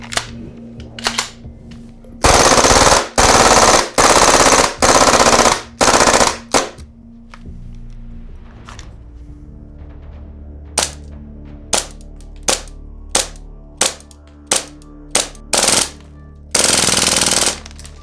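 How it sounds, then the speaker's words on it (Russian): A G&G SMC-9 gas blowback airsoft carbine fires loud, rapid full-auto bursts up close. Several long strings come first, then a run of spaced single or short shots, and a final burst closes the clip. "Газовый двигатель адаптирован под работу с более длинным внутренним стволиком и стрельбу очередями."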